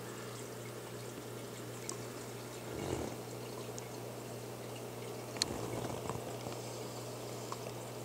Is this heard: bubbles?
yes